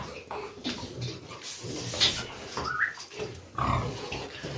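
Piglets for sale on a Romanian farm, grunting and squealing in uneven bursts close by, mixed with farmyard shuffling and a few sharper squeals.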